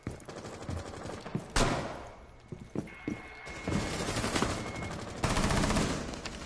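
Gunfire from a PS4 video game crackles in repeated bursts and single shots, with a few sharp louder blasts, heard through a game's mixed background sound.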